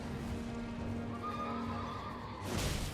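A horse neighs in Elden Ring during a fight with the mounted Night Rider boss, a sustained whinny followed by a louder burst of game noise, with no talk over it.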